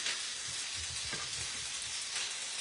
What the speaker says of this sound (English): And you just let it sizzle.